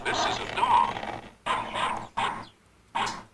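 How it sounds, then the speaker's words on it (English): A dog barks in a living room, with several loud, close bursts separated by short pauses, some drawn out like growls or whines. "it's like there's a dog in my living room"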